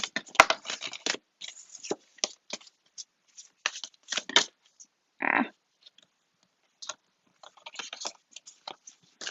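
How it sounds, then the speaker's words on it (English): A deck of new tarot cards is shuffled close by in quick, uneven riffles and pats, with crisp bursts broken by short pauses. The cards sound stiff, and no one talks. "These cards are new, so they're very hard to shuffle."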